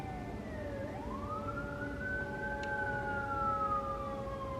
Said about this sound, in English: There's an ambulance a few houses down.